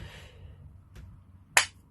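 One sharp, close hand clap rings out near the end after quiet room tone and a faint earlier tap.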